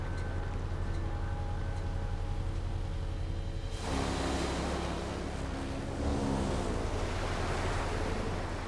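Waves wash around a yacht on the Neva River in the game Alpha Protocol, a steady broadband surf that swells noticeably louder partway through and keeps rolling to the end, with no voices over it.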